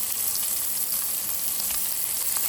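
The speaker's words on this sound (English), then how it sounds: "The searing of the pan when it's super hot" Beef tenderloin filet steak searing in a very hot pan, a loud, steady, dense sizzle that holds without a break for the whole stretch, close up, with no talking.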